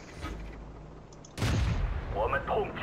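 Tank cannon fire in World of Tanks from a Chinese Type 64 light tank, a quiet stretch followed by a sudden heavy boom and sustained rumbling roar, loud and close, with faint game effects afterward.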